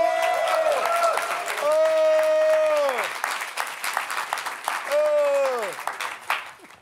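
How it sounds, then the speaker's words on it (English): An audience at a Cannes 2019 film press conference applauds in a steady, full burst of clapping, with a voice speaking over it at length while sustained tones swell and fade beneath. "Please, some applause for Madame Tilda Swinton."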